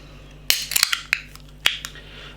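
A can of cherry and passion fruit Gose beer is opened: a few sharp metallic clicks and cracks from the tab in quick succession, close and loud against a quiet background.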